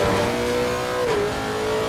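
A Lexus race car in Assetto Corsa Competizione on the Monza circuit accelerates hard, its engine note climbing steadily, dipping briefly at a gear change, then rising again, loud and close with no talk.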